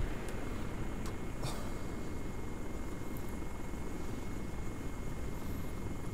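In the ARMA 3 video game, a helicopter flies overhead, its rotor and engine making a steady loud drone that keeps going throughout, with a few faint clicks above it and no talking.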